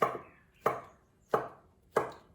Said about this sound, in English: dicing the banana